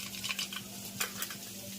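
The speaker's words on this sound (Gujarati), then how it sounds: "અહીંયા ગુવારના શાકનો વઘાર કરવાનો છે." Mustard seeds and spices crackle and sizzle in hot oil while tempering a Gujarati cluster bean curry, with soft stirring and brief pan clinks close by over a steady low hum.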